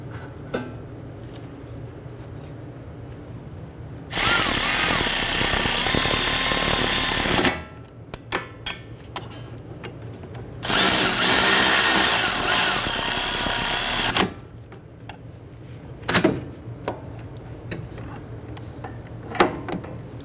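A power tool snugs down the hub bolts on a 2011-2023 Dodge Charger front hub assembly, running in two loud, sustained bursts of about three seconds each, separated by quieter clinks and handling noise.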